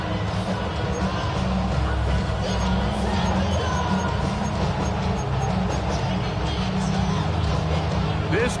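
Stadium crowd in a football video game, a steady dense roar of cheering and noise that holds loud and unbroken throughout as the home fans rally before a third-and-goal play.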